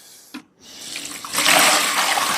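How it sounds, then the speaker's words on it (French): Water is poured from a container over cooked hemp seed carp bait, a brief knock followed by a loud, close, rushing splash that swells and keeps flowing steadily for over a second, with no talking. "je recouvre bien d'eau pour avoir pas mal d'eau pour détremper mon pelé"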